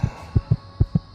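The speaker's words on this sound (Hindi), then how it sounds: "दिल तेजी से धड़क रहा था।" A fast heartbeat sound effect for a Hindi horror story throbs low and close, with five quick thumping beats in just over a second and no voice over it.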